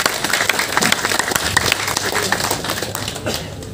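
Audience applauding at an Indonesian bonsai seminar, dense steady clapping from many hands that carries evenly through the whole stretch with some voices mixed in.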